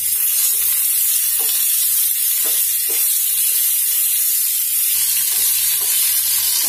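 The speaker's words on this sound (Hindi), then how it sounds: "इसको हम 3-4 मिनट ऐसे भून लेंगे और फिर निकाल लेंगे" Spiced rice-flour mixture for chawal ke fare sizzles steadily in a hot pan, a loud continuous fry hiss broken by repeated scraping stirs from a spoon, with no talking.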